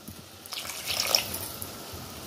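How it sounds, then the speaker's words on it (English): Water splashes and trickles briefly into a cooking pot of barbecue sauce, faint and close, with no talking. "Add a little water to it."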